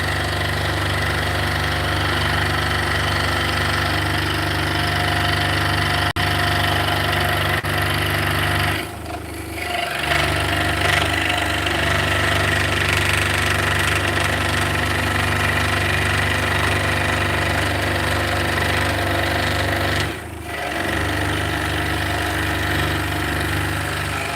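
An engine-driven saw runs steadily with a loud, continuous droning rattle and two brief dips in level, close and without any talking.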